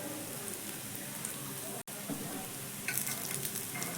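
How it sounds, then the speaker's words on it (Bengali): Pieces of flattened-rice tiffin fry in oil in a pan over a medium-low gas flame, giving a steady, close, dense sizzle with one brief dropout midway and a slightly brighter crackle near the end. "গ্যাসের ফ্লেম মিডিয়াম টু লোয়ের মাঝখানে থাকলে ভেতর থেকে খুব সুন্দর করে এগুলো কিন্তু ভাজা হবে"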